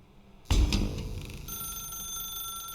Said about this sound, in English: Now pick up the phone